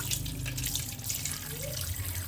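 Tap water runs steadily into a sink while raw fish pieces are rubbed and washed one by one, a continuous close splashing hiss with no talk over it.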